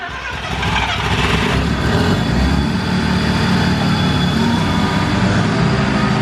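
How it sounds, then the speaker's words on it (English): A Mazda RX7 Series 1 rotary engine fires up for the first time in ten years after sitting as a barn find, catching loudly after a brief crank and settling into a rough, steady running rumble close by. "We'll start her up and we're going to run it through the gears."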